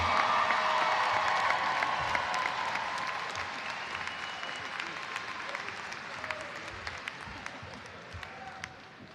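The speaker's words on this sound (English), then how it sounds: "Everyone give them a round of applause." A large audience at Start High School's class of 2021 graduation ceremony applauds the graduates in a dense, sustained wave of clapping with some cheers and whoops, slowly fading over several seconds.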